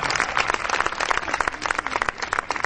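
Audience applause at a formal ceremony where guests are being presented with bouquets, a dense steady patter of many hands clapping, fairly close and continuous throughout.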